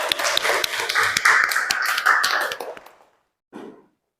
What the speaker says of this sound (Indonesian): Tepuk tangan dulu untuk Mbak Heisya.